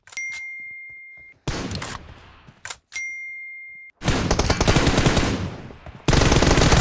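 Automatic gunfire from the battle royale shooter PUBG in a team deathmatch round, with loud sustained bursts and separate shots, broken by ringing metallic pings and short gaps.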